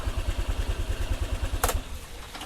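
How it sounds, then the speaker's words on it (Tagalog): A cold Honda Click motorcycle engine idles high. It gives a close, rapid, even thumping pulse with a short clatter partway through. "Napakalamig pa kasi niya, kaya mataas yung idle."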